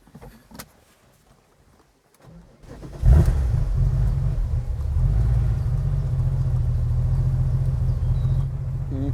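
A Porsche 993 with 165,000 km on the clock starts up and settles into a loud, steady engine run with a deep rumble. Quiet handling noises come first, and the engine then holds near and continuous to the end.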